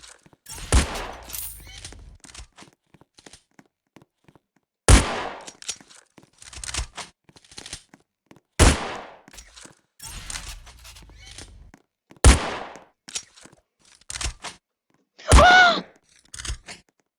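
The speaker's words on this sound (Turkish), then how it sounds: "şu anda milleti vuruyorum. Yani herkesi vuruyorum." Gunfire in the Roblox game Murder Mystery 3, a series of sharp isolated shots spaced a few seconds apart, each with a short decay, with brief game sounds between.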